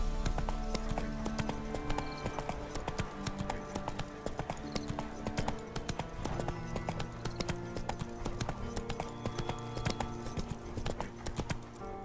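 Horse hooves in the Witcher 3 video game beat in a steady clip-clop rhythm throughout, close and fairly loud, layered over game music with no talking.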